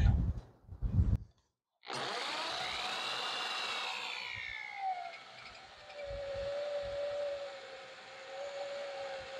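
After a couple of brief knocks, a hammer drill in non-hammer mode whines into brick, its pitch sliding down as it bites, then droning steadily and loud.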